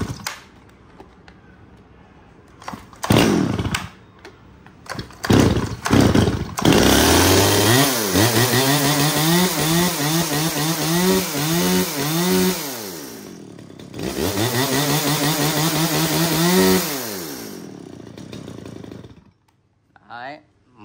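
A STIHL chainsaw is pull-started with a few sharp cranking bursts, then catches and runs loudly, its engine revving up and down in repeated surges before settling and cutting off near the end; someone talks briefly around it.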